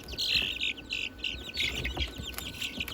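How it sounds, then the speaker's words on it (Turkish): A chicken clucks and chirps in short bursts close by, with light rustling in the background. "bir adet tavuğumuz bu"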